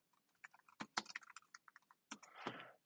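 Keys tapped on a computer keyboard while text is entered into a spreadsheet cell, a close, quiet run of quick irregular clicks with short pauses and a denser burst near the end, no talking.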